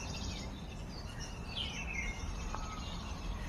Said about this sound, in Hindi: कलरव आप सुन रहे होंगे पक्षियों का, कितने पक्षियों का घर मेरा ये घर हो गया है।